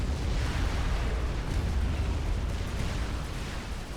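Continuous dense artillery and point defense fire from a Supreme Commander battle: rumbling booms and crackling bursts blend into a loud, unbroken wall of explosions with no voices.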